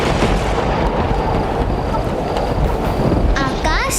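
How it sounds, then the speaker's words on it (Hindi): A loud, steady storm sound effect of roaring wind and rushing rain fills the clip, and a brief chirping or squeaking sound rises near the end. "आंधी और वर्षा होने लगी।"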